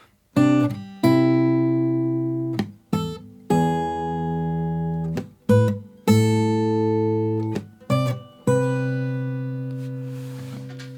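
Guitar plays the bridge of a song, with clear plucked notes and chords in short phrases separated by brief pauses, close and alone.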